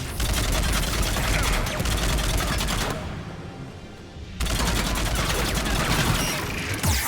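Rapid, dense bursts of automatic gunfire in the video game Mass Effect 3 roar continuously, stop briefly for about a second, then resume just as loud and sustained.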